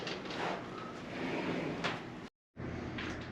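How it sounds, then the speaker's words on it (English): A bifold door slides along its track, giving a smooth, continuous rolling rumble at close range, broken by a short silent gap before the motion resumes. "when you move your door, it's not skipping on the track or you get any binding"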